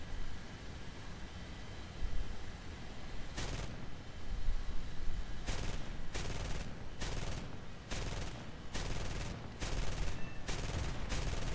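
Bursts of machine-gun fire aimed at a Pe-8 bomber in a flight combat game, loud repeated volleys cutting in and out over a steady engine drone with no talk.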